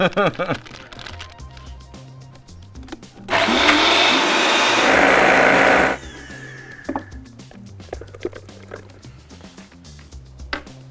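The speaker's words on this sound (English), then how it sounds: "Got it in the blender now." An apple mixture with a stick of butter whirs in a blender for a loud, steady run of about two and a half seconds. Chatter and kitchen clatter come before and after the blending.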